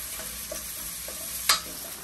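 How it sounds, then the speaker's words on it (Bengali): Fish frying in a pan with crushed garlic and chilli, a continuous sizzle broken by a few scraping stirs and one sharper clatter near the end. "তারপরে মাছ দিয়ে আবার কষাচ্ছি"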